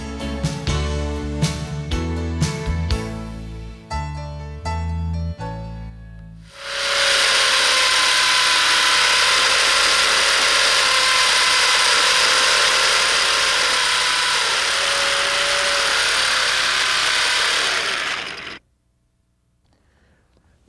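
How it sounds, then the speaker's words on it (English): A power drill bores a hole for a satellite TV cable during a dish installation, a loud sustained whine that runs steadily for about twelve seconds after some rhythmic mechanical clatter, then cuts off abruptly. "Now that the hole is drilled,"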